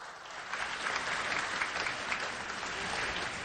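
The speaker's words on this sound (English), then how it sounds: "there's a need for one more applause for Kenya" Steady applause from a large audience at an annual development bank meeting, honoring Kenya, a continuous even wash of clapping heard at a distance, fairly faint.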